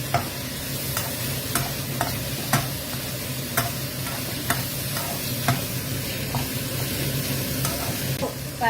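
Onion flowers stir-fry over high heat in a pan, a steady loud sizzle with regular scraping stirs of the utensil, close up and without talk.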